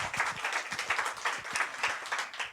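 A church congregation claps together during a sermon, a brisk rhythmic patter of many hands that stays fairly even and close for the whole stretch, with no voices over it.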